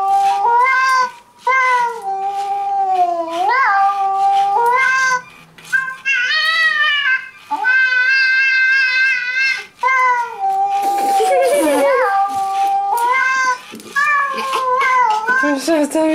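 A programmed Lego Boost robot cat producing a series of synthetic, pitch-sliding meows, loud and close, one after another with short gaps, ending in a noisier burst of warbling cat-like calls.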